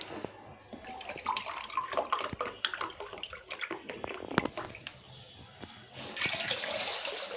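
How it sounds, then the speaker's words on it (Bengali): A glass of water is poured into wheat flour with ground peas, making a steady splashy stream that swells louder near the end, with no voices. "আমি এখানে মেপে মেপে পানি দেব"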